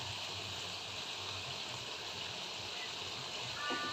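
Potatoes boiling in an open pot, a steady close bubbling hiss that runs unbroken, with a brief higher clink near the end.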